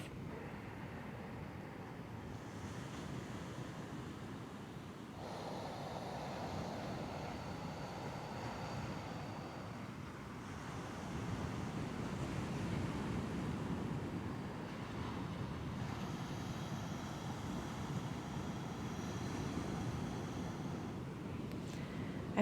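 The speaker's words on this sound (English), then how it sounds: "This ocean sounding breathing is so soothing for the nervous system" Slow, ocean-like breathing during a gentle prenatal yoga session for the low back and hips. Soft, close, rushing breaths swell and fade every few seconds like quiet surf.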